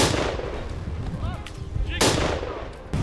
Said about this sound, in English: A thunderous gunshot echoed through the field.